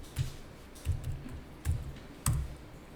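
Four separate, fairly quiet clicks as the Enter key on a computer keyboard is pressed repeatedly, spaced roughly half a second apart in a quiet room.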